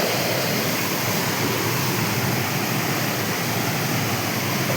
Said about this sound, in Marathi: बघा हा अशा पद्धतीचा हा दमनगंगा नदीवरचा धबधबा